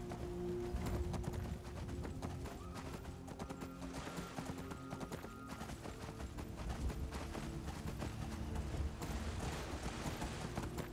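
Armored horse hooves clip-clop steadily in a Skyrim video game scene, a continuous rhythmic trot with metallic armor rattle throughout.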